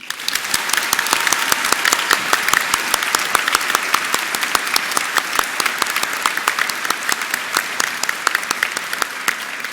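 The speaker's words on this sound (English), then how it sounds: "We'll try out our clapping." A graduation ceremony audience practises clapping on cue, a dense burst of many hands applauding together, steady and fairly loud for the whole stretch, with sharp individual claps standing out.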